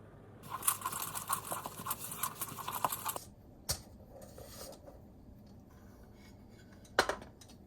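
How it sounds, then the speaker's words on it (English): Spatula scraping and stirring baking soda into sugar cookie dough in a bowl, a soft close scratchy rasping for about three seconds, followed by a few isolated faint clicks and taps. "Then I'm going to use this spatula, and I'm going to stir in the baking soda"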